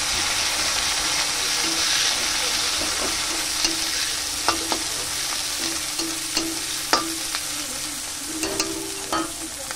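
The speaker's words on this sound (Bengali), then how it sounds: "এবার পেঁয়াজ কুচিটা দিয়ে দেবো, ভালো করে একটু ভেজে নেব" Steady oily sizzle of chopped onions frying in a pan, with occasional stirring clinks and scrapes over a continuous hiss.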